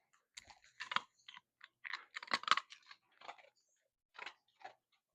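A dog crunches an ice cube in a string of sharp, close, irregular bites and cracks with short pauses between them, loud against an otherwise quiet room.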